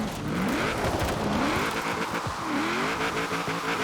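A Nissan 240SX drifts in the racing game Forza Horizon 4, its engine revving up and down continuously and loudly while tires squeal and slide, with no voices over it.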